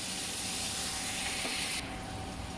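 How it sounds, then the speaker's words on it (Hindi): Onions frying in oil with asafoetida and cumin in a pan, heard as a close, steady sizzling hiss that drops a little in intensity near the end, with no voices. "प्याज को डीप ब्राउन नहीं करना है, इसे मैं गुलाबी रंग होने तक इसे 1-2 मिनट भूनूंगी"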